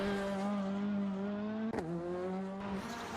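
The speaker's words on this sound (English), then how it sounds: "And now we're kinda on board with Luca on stage 8. As you can see, very narrow, very windy roads" A rally car on a narrow winding stage holds a high, steady engine note heard close on board, then dips and rises again as the driver lifts and revs through a bend.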